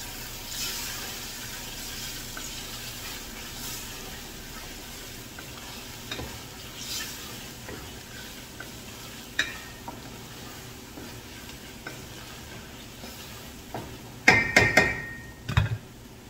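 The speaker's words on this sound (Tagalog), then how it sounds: "So, i-simmer lang natin ng konti." Meat simmering in a pan with a soft, steady sizzle, broken by scattered scrapes and clinks of stirring that grow louder and busier near the end.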